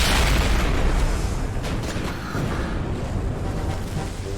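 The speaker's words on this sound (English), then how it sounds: "at the end, they have a super cool explosion" Anime explosion from Girls und Panzer, a loud sustained rumbling blast with a roaring, noisy tail that slowly settles, heard alone.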